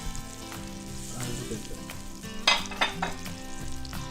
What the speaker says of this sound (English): Butter going into the pan. Marshmallows into the mix here.